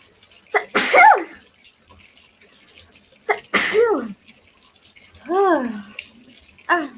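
Two loud, close sneezes, each followed by breathy vocal sounds and sighs, with quiet pauses between.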